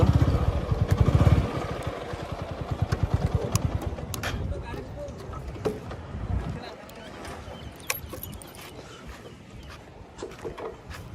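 A motorcycle on Marine Drive with a stranded rider sputters into a low rumbling run, loudest at first and then fading into street noise, while people talk nearby.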